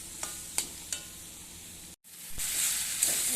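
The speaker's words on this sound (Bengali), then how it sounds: "এবার কষাবো মশলা আর এঁচড় একসঙ্গে কষাবো" Spice paste and young jackfruit being sautéed together in a pan for a goat-fat jackfruit curry, with a few sharp stirring scrapes early on, a brief break, then a steady bright sizzle that swells and holds to the end.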